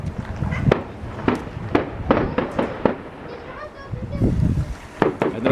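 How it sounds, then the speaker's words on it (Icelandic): Fireworks set off on Twelfth Night pop and crack in a string of sharp bangs, several close together, with people talking over them outdoors. "Þetta eru svolítið lélegar flugeldar hjá þér."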